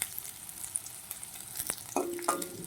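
Okra (bhindi) frying in a pan, a soft continuous sizzle with a few brief scraping stirs near the end, close and quiet.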